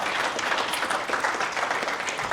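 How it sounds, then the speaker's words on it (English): An audience applauds panelists at the close of a Bitcoin finance panel discussion, producing a dense, steady wash of clapping that holds at moderate loudness throughout, with no talk over it. "A round of applause for our panelists"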